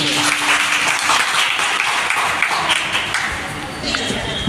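Teachers at a school in Muradnagar clap loudly together, a thick, sustained wash of applause filling the room at close range, with some voices mixed in.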